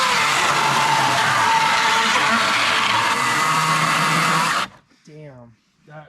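A Cat 60V cordless chainsaw cuts with a loud, steady electric whine for about four and a half seconds, then stops abruptly, after which someone briefly speaks.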